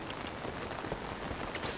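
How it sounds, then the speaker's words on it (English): Steady rain falling on surfaces in the video game Zelda Tears of the Kingdom, a dense even hiss of drops at moderate level with no talk. "Okay, it's raining."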